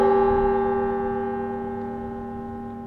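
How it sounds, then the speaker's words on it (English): Big Joe, the largest bell in a carillon, tolls in memory of lives lost, one loud deep stroke whose rich humming overtones ring on and slowly fade. "Big Joe, the largest bell in the Carillon, sounded 26 times"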